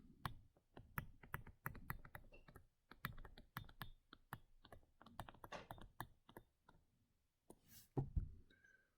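A note is typed on a computer keyboard, close and quiet, with quick irregular clacking keystrokes in bursts and short pauses, ending in a brief louder clatter. No talking.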